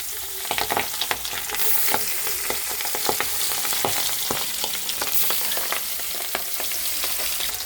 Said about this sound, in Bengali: হালকা করে গ্যাসটা দিয়ে দিলাম লো ফ্লেমে, দিয়ে আস্তে আস্তে মাছগুলো দিয়ে দেবো।